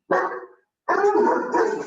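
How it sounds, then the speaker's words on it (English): A stray dog gives two loud, close barks in quick succession, the second drawn out, with a short silent gap between them and no talking. "So if you hear the dog in the background"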